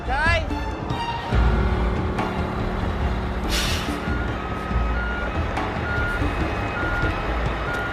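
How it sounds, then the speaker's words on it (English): Reversing beeps from a backing truck repeat in a steady rhythm near the start, over a loud, continuous engine rumble with an air-brake hiss partway through, while voices talk over it. "Now we get to you, we're gonna back up and you gotta follow in our tracks."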